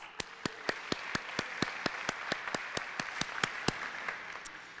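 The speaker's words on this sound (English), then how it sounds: "Portia, I think you deserve a round of applause." An audience applauds a speaker at a college social science lecture, with crisp, evenly spaced claps standing out over a steady wash of softer clapping for the whole stretch.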